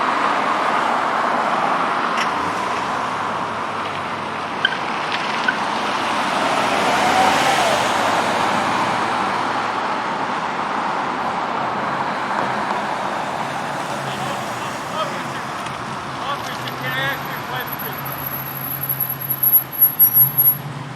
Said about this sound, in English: I'm glad that car's moving out